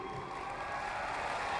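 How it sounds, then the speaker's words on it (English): A conference audience applauds at an AIPAC event, a steady wash of clapping from a large crowd filling the hall, even and sustained with no pauses. "applause that could be heard as far away as Jerusalem"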